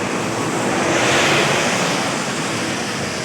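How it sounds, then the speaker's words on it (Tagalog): Waves hit close by and throw spray, making a loud, dense rush of splashing surf with some wind across the microphone. It runs continuously and swells slightly in the middle, with no talking. "Ang talsik ng tubig."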